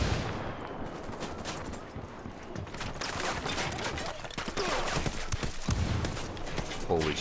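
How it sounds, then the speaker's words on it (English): Heavy explosions and gunfire in the co-op shooter game Ghost Recon Wildlands, a dense continuous barrage of blasts and shots with a loud burst near the end. "Holy shit, that's a huge explosion."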